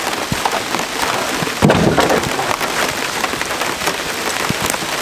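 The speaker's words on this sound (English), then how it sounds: "Because it doesn't matter, because all it does is rain." Steady outdoor rain patters and drums on surfaces, a dense, continuous hiss with scattered sharper drops and a brief louder splash, heard alone and close.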